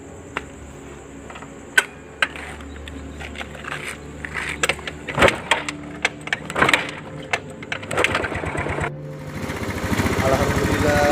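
A stalled motorcycle engine being started, with clicks and sputtering attempts followed by a rising, steady engine run near the end, heard up close under some talking.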